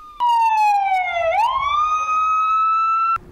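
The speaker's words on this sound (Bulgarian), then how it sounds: "Аз днеска дойдох точно за сирените. Да ги чуя" A loud siren wails with a falling then rising pitch, sustained for about three seconds before cutting off abruptly, at a World Health Day memorial for medics lost to COVID.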